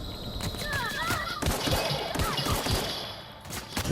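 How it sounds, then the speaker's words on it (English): Gunfire aimed at the player in The Outer Worlds, with scattered sharp shots and thumps over a busy game soundscape, a few of them louder bursts around the middle. "Somebody's shooting me."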